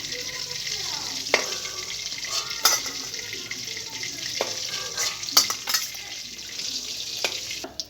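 Rohu fish being fried in hot oil in a home kitchen, a steady crackling sizzle with scattered pops and utensil knocks, fairly quiet and without talk.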